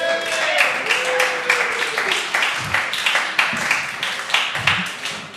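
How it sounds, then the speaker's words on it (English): Audience applause welcoming comedian Rudi Surina at a live show in Byron Bay, a steady wash of many hands clapping with some whistles, loud and close for several seconds. "please put your hands together in a clapping applause style sound for the one and only Rudi"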